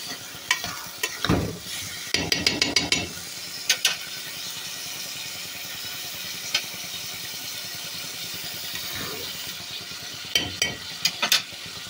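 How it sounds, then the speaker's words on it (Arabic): Food frying in a pan while being stirred, with a steady sizzle under repeated clattering scrapes and knocks of a utensil against the pan. "نقلبي بقى بالراحه كده ودوقي بقى الحياء بتاعها"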